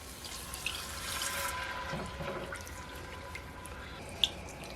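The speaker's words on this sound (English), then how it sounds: "What I'm going to do now is add 1 cup of vegetable broth." Vegetable broth pours into a pan in a quiet, steady liquid trickle with a few faint drips and a small clink near the end.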